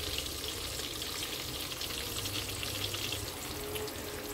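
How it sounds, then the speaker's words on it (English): Onions frying in a pot for a Nigerian turkey stew, a steady soft sizzle and crackle running continuously at low level with no talking. "so I will stir for some seconds. Before adding in my tomato paste."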